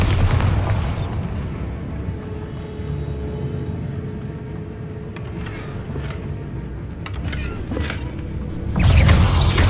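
Explosions from the Bombarda blasting spell in Hogwarts Legacy, a heavy booming blast at the start and another at the end, with rumbling debris and scattered game effects in between.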